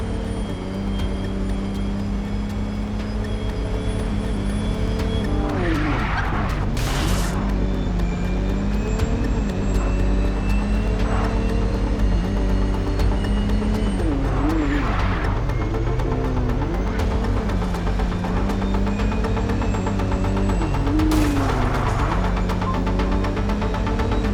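Car in MindsEye driving with a constant loud engine drone and road rumble throughout, with a few brief sharper surges that could be tyres skidding.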